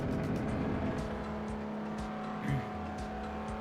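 Racing cars in the Hot Wheels World Race video game approach with a loud, steady engine drone and whining revs, a brief surge near the middle and faint tire noise under the roar.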